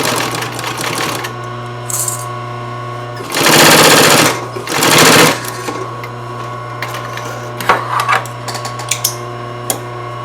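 A sewing machine top stitches along a seam, buzzing close and loud in two short bursts over a constant low motor hum, with light handling taps and rustles before and after.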